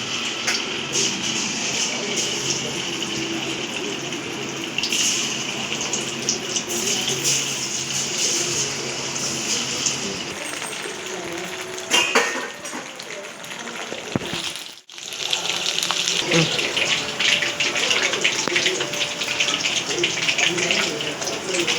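Chicken pieces, for Chicken 65, dropped into well-heated oil in a home kitchen, giving a steady, loud sizzling hiss that fills the whole stretch, with a brief dip near the middle before the bubbling resumes.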